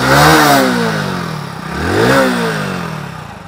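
A 2023 Hero HF Deluxe motorcycle engine is revved twice with the throttle. Each blip rises sharply from idle and falls back, loud and close, with a slight mechanical clatter and no talking.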